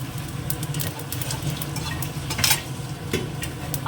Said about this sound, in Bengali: এবার ফোড়ন দিয়ে দেবো হচ্ছে গোটা জিরে